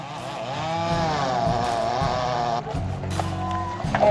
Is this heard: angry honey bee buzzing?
no